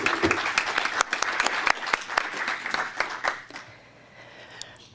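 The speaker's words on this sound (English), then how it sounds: "Will you please join me in a round of applause?" A council meeting audience in Truckee applauds with a lively burst of many hands clapping together, loud and sharp at first before thinning to scattered claps and fading out near the end.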